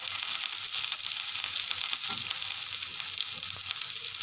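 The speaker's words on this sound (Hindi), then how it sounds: "पनीर फ्राई करने के बाद मेरे कढ़ाई में तेल है, उसी तेल में मैं सबसे पहले जो ज़्यादा टाइम लगता है पकने के लिए वही सब्जी पकाऊँगी" Mixed vegetables (cauliflower, capsicum, carrot, beans) frying in leftover oil in a kadai after paneer, a steady close sizzle and crackle with occasional stirring, no voices.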